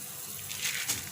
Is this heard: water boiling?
yes